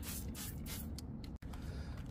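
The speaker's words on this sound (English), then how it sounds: "I've sprayed all the wheels with the Sonic wheel cleaner" Sonax wheel cleaner sprayed onto the wheels of a 2016 Mercedes-Benz AMG E63s, a run of short hissing trigger-sprayer bursts close by, fairly quiet, with no voices.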